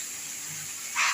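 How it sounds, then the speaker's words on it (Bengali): Water runs from a tap in a bathroom outside the room, heard as a faint, steady distant hiss that swells into a brief louder gush at the very end. "বাইরে বাথরুমে কলের আওয়াজটা মনে হয় এসে গেছে"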